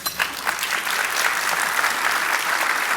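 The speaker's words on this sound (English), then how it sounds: "I think that's well-deserved applause" An audience at the Irving State of the City 2024 keynote breaks into lively, close applause, individual claps audible at first, then blending into a steady, loud ovation.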